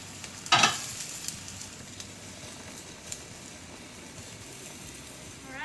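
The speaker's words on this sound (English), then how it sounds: "So I'm going to pour these veggies in. And then going to sweat these for a little bit" Vegetables for a beef stir fry hitting a hot pan and sweating: a brief clatter as they drop in, then a steady, soft sizzle and hiss under faint background noise.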